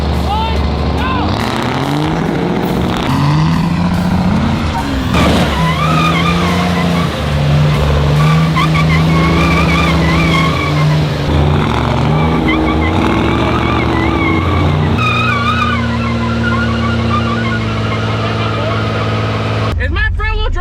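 1000HP Cummins-powered Ford Ranger in a truck tug of war, loud engine roaring and revving with tires spinning and squealing, close up, with people talking over it.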